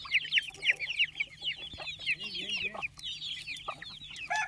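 A hen tending a brood of chicks clucks in short repeated bursts over a busy chorus of high chick peeps, close by and moderately loud.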